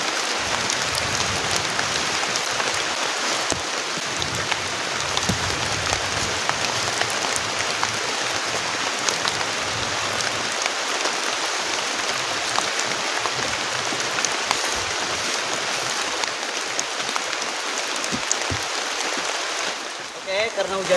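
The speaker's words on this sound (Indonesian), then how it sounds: "hujannya deras banget" Heavy rain pours steadily during a stormy camping trip, a dense, constant hiss of drops hitting surfaces close by, unbroken for the whole stretch.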